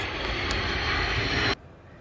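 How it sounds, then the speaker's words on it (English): A propeller airplane drones overhead, loud and steady with a broad engine roar that cuts off abruptly near the end, outdoors beside a 2015 Subaru WRX STI being fitted with a carbon fiber hood. "Yes, man, damn plane."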